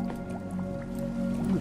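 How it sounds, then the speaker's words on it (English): Water drips in a cave-like area of the video game AER: Memories of Old, with a run of small, close, liquid plinks and squishes falling at an irregular pace over a low steady hum. "Ooh, the drips."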